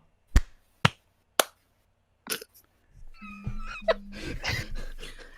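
Three sharp hand claps, evenly spaced about half a second apart, are made to sync a podcast recording. After a short pause, people start talking.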